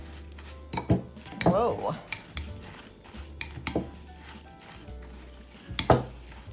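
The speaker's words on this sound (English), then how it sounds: "now we're just gonna mix it in with the oats" Oats mixed in a bowl with a spoon, scattered clinks and scrapes of utensil against the bowl, close-up and intermittent, with a brief exclamation from a person partway through.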